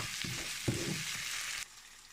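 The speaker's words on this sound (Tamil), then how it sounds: "தக்காளி நல்லா சாஃப்ட் ஆகிற வரைக்கும் இந்த அளவு வதக்கிக்கோங்க." Tomatoes sautéing in a pan for baingan bharta, a steady broadband sizzle with a brief stir-like bump near the middle, cutting off abruptly toward the end.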